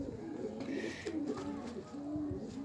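Teddy pigeons cooing softly up close, a series of low throaty rolling coos repeating in short phrases, fairly faint, with light rustling in between.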